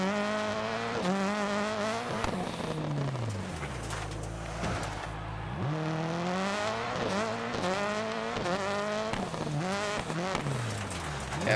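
A 600HP Subaru rallycross car races hard on dirt in Florida, its engine screaming up and down through repeated gear changes while the tires slide and scrabble, loud and continuous throughout.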